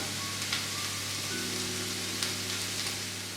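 Onions and garlic sweating in a pan, a soft steady sizzle with a faint crackle, heard alone with no voices.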